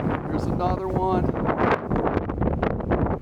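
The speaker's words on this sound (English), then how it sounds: "So those gusts really push that Mini 4." Gusty wind buffets a DJI Mini 4 Pro drone flying in a snowstorm, a steady loud roar of wind noise across the microphone with a brief tonal whine partway through.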